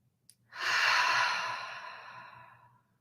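A single long, deep exhaled breath rushes out close to the microphone, swelling quickly and then fading over about two seconds, with a faint low hum beneath it.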